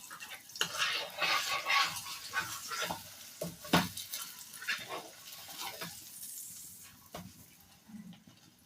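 Egg roll filling fries in a little oil while being stirred, producing quiet crackling sizzle broken by irregular scraping and tossing bursts.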